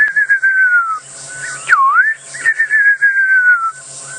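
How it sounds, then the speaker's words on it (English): A fiery-necked nightjar calling on a sunset safari drive, a clear quavering whistled descending phrase repeated, with a brief upward-swooping note between, against a quiet backdrop with faint low hum. "one of my favorite sounds, the fiery-necked nightjar"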